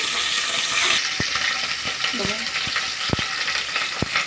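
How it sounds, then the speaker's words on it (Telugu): Curry leaves hit hot oil for a fish curry, giving a loud, steady sizzle and crackle with a few small pops and clinks, close up with no talking. "దాంతోపాటు కరివేపాకు కూడా వేసేసుకుంటాను కొంచెం దూరంగా ఉండాలి వేసినప్పుడు"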